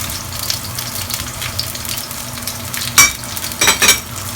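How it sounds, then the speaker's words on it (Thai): Chicken stir-fried in a pan, seasoned only with salt, gives a busy close sizzle with scraping stirs and a few louder bursts of frying near the end, with no talking. "แล้วจะเอาไก่มาผัด"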